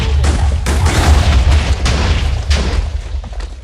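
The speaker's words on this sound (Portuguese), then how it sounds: "Explodindo tudo." Explosions in the Minecraft video game, a dense, loud rumble of overlapping booms and blasts rolling continuously for several seconds before tapering slightly.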